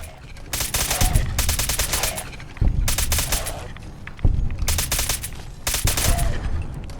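Bursts of automatic weapon fire in Fallout 4 during a fight with ghouls, four sustained rattling volleys separated by short pauses, loud and close with no talking over them.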